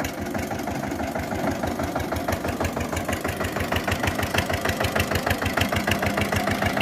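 An old Eicher tractor engine labours while hauling a heavy load of sugarcane over soft soil, its diesel knocking in a fast, regular thump that grows more pronounced and even, close and loud with no voices.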